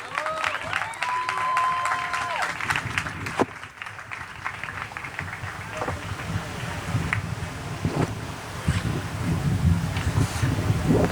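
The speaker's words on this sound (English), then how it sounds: "So Pablo and Jorge, round of applause for you guys." An audience at a crypto festival talk applauds steadily in a broad, diffuse wash of clapping, with wind noise and some background voices mixed in.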